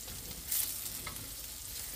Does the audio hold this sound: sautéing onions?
yes